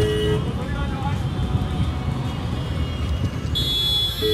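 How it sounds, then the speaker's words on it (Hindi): Busy road traffic near Lucknow airport, where an e-rickshaw has just hit another vehicle. Engines rumble steadily and close, car horns toot now and then, and the noise swells toward the end. "आज तो कुछ ज़्यादा ही ट्रैफिक लग रहा है।"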